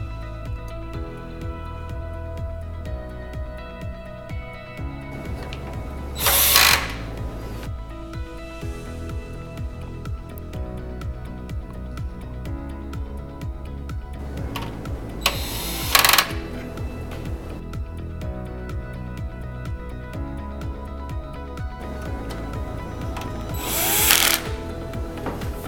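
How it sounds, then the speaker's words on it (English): Screws being fastened on the controller cage of a 2U rack server with a power screwdriver, three loud whirring bursts spaced several seconds apart over a steady hum of server fans. "Make sure you fasten the screws on the side and on the front of the cage to make sure it stays in place."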